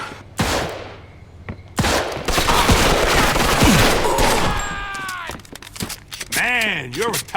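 Gunfire from a Mafia 2 shootout, with bursts of shots and rapid fusillades crackling loudly over several seconds, joined by shouting voices and game sound effects.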